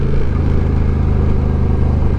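A motorcycle engine drones steadily at cruising speed on a winding country road in the Appalachian foothills, loud and close, with a low rumble and faint wind noise throughout.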